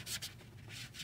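Abrasive fiber pad scrubbed over an RC car tire, standing in for sandpaper: quick close rasping strokes in short bursts, faint and alone.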